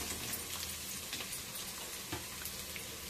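Ingredients for bagara rice fry in a pan, a faint, steady sizzling hiss with soft crackles and no voices.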